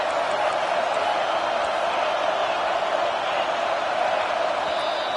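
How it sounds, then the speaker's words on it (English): A stadium crowd at a football game roars on third down, cheering steadily and loudly as a dense, unbroken wall of noise. "Decibels rising as the crowd gets behind this defense on 3rd down."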